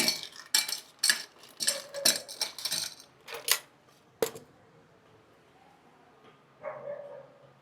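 A spoon clinks and scrapes against glass and ice while cold brew coffee is stirred and mixed, a series of sharp close taps and rattles that thin out toward the end.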